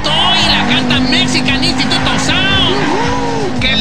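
Car engine driving in GTA 5, a steady motor hum running underneath continuous voices chatting in Korean throughout.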